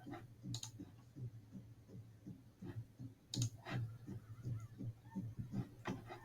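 A computer mouse is clicked while working through a Microsoft Word course page. A few sharp, quiet clicks stand out over a low, steady room hum.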